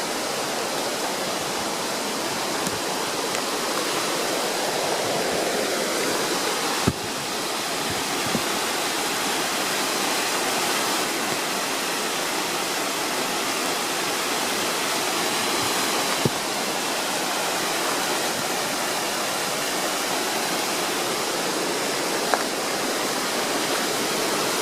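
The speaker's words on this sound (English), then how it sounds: "I'm sure you can hear the creek." Steady rushing of flowing water from a nearby creek along the Appalachian Trail in Pennsylvania, a constant full hiss with no voices.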